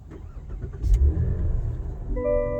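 From inside the cabin, a 2022 Cadillac CT4-V Blackwing engine starts with a short low burst and a muffled rev, then settles into a steady idle.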